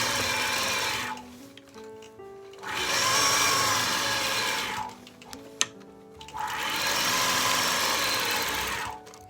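A sewing machine stitches in the ditch along a quilt with a ruler base, running in three long loud whirring bursts separated by brief pauses, close up with no voices.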